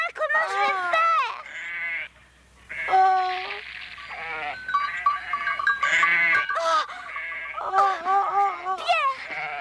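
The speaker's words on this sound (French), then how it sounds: "Il faut rassembler les chèvres et redescendre." Cartoon goats bleating in the mountains, a lively chorus of wavering, high calls near and loud, overlapping with one another and with excited voices talking through most of the stretch.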